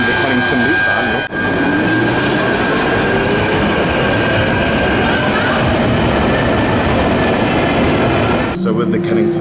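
London Underground Northern Line train running through the Kennington loop, a steady loud rumble of wheels on track with high squealing tones throughout, close and continuous, with brief quieter gaps at the start and end.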